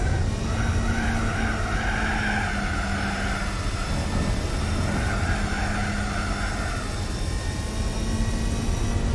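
A car driven in the Gran Turismo 4 video game: a steady engine drone with tire skidding and squealing, continuous and moderately loud, no talking.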